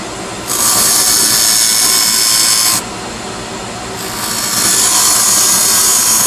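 Wood lathe turning cove cuts into a chess king with a small gouge: a loud, steady hiss of the cutting tool on spinning wood, stopping briefly and resuming, with the motor hum underneath.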